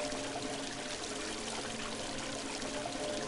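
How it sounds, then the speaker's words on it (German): Water poured from a bucket in the puzzle game Christmas Stories: The Nutcracker, a steady unbroken splashing stream that runs at an even level throughout. "Mit meinen Händen kann ich nicht so viel Wasser schöpfen, wie ich benötige, aber ich habe doch einen Eimer."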